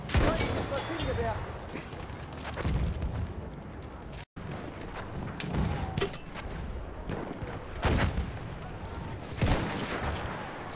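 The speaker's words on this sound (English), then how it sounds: "Feindliches Maschinengewehr!" Enemy machine gun fire in the World War I shooter Battlefield 1, loud sustained bursts and scattered shots mixed with other battlefield gunfire, with a voice shouting over the din.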